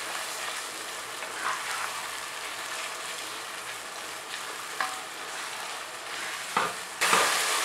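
Boneless chicken karahi frying over a high flame, with a constant loud hiss of sizzling oil and occasional stirring scrapes, close and continuous, rising sharply near the end, no voices.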